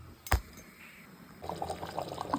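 Hot water is poured into a pressure cooker of mutton curry, a short splash followed by a steady, moderately loud stream of liquid running into the pot at close range, with no talking.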